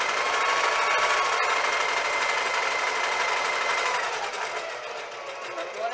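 A sewing machine runs continuously at close range, a steady whirring buzz with a fast mechanical rattle that eases slightly toward the end.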